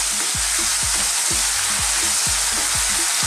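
Beef salpicao sizzles steadily in a hot pan with oyster and Worcestershire sauce, a loud dense frying hiss with rhythmic stirring scrapes repeating about every half second, no voices.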